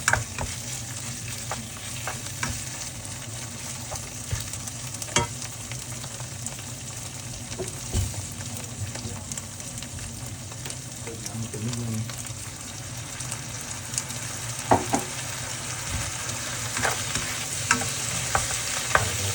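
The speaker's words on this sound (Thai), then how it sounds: "เริ่มสุดแล้ว เราไม่ผัดนานนะ" Fish roe stir-frying in a hot pan for a basil stir-fry, a steady close sizzle running throughout with occasional sharp utensil scrapes and taps against the pan.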